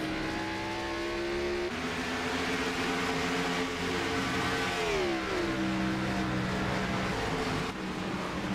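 Race cars at Lime Rock Park roar past in a steady, loud engine drone, their pitch sweeping down midway as one car passes and then holding on at a lower tone.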